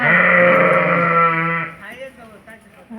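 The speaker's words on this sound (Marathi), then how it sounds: "भरपूर शेळ्या मेंढ्या येतात" A sheep bleats loudly and close for over a second among a large flock of sheep and goats, then quieter rustling and faint sounds follow.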